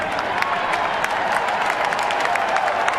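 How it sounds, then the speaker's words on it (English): A baseball crowd at a Milwaukee at Pittsburgh game gives a mocking Bronx cheer over a call at first base, a steady roar of clapping and jeering voices filling the stands. "Kind of a Bronx cheer, I think, for the call over at first base."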